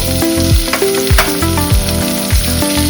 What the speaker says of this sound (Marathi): बटर गरम करणार आहोत। त्यामध्ये टाकायचं आहे कांदा, टोमॅटो